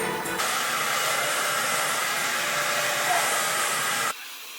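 A household vacuum cleaner runs with a loud, steady whooshing roar. It starts abruptly, holds evenly for about four seconds and then cuts off, leaving a quieter hum behind.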